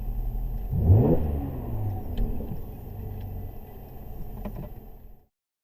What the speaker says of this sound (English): give the exhaust one more rev